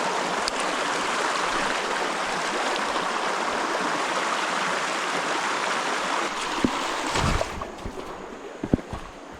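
A shallow creek flows steadily in a wooded outdoor setting, giving an even broadband rush of moving water with a few brief splashes and knocks near the end.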